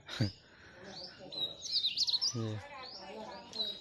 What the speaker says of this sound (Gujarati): ચકલિયાનો અવાજ